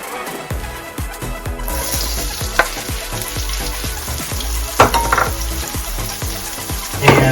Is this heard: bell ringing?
no